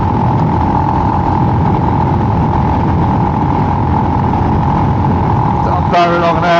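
A Himalayan motorcycle cruising at 70 miles an hour, its engine a loud, constant droning hum mixed with rushing wind noise, steady throughout.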